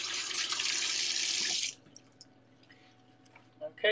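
Tap water runs steadily into a kitchen sink as hands are washed during meal prep for a bean chili, a loud continuous gush that cuts off abruptly, followed by quiet kitchen clatter.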